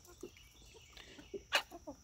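Chickens in a muddy, grass-stripped chicken run cluck softly in short scattered calls, with one louder, sharper squawk near the end, close by and with no talking.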